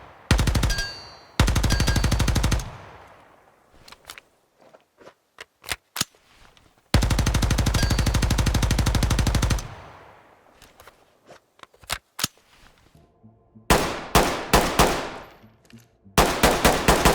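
Weapon fire in the tactical shooter game Ground Branch: long sustained automatic bursts alternating with sharp single shots and short rapid volleys, loud and close, with no talking.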